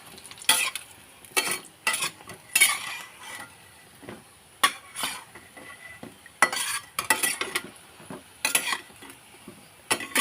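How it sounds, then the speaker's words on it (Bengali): Gaja, square sweet pastries, deep-frying in hot oil over a gas flame, with a soft sizzle beneath repeated sharp scraping and stirring strokes that come in irregular bursts throughout. "এখানে 5 মিনিট মতন আমি ভালো করে ভেজে নেবো গ্যাসটাকে বাড়িয়ে"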